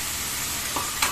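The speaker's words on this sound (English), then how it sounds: "Now I'll add the onions, shimla mirchi and the red chili and green chili." Onions, capsicum and red and green chilies sizzle steadily in a hot pan for sweet and sour arbi, with two brief stirring scrapes near the end.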